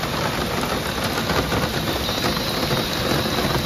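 Heavy rain pours steadily at a hillside property in Kolukkumalai, a dense, even hiss of drops striking surfaces close by, with no voices.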